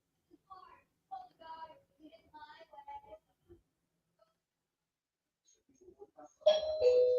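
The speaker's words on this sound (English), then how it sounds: "So you may hear the bell dinging." A few words of quiet speech, a pause, then a loud doorbell chime rings out clearly near the end.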